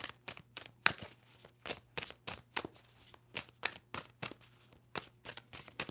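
A tarot deck is shuffled by hand in a quiet room, crisp riffling bursts repeating in a quick, fairly even rhythm, each sharp flutter of cards close to the microphone.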